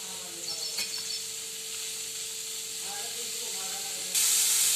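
Onion sizzling in a hot kadhai for dhaba-style paneer masala, a soft steady hiss with a few faint tonal chirps, close but quiet, rising to a brighter sizzle near the end.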